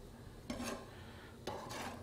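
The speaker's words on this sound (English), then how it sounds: "So I'm just going to put everything in a small bowl here." Pico de gallo ingredients, including chopped jalapenos, dropped into a small bowl: two soft rustling, scraping bursts about a second apart, close and quiet, with no voices.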